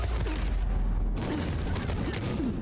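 Dense, continuous gunfire from shooting at an enemy in Mass Effect 3, a loud sustained fusillade of rapid shots with booming low end, close and unbroken for the whole stretch.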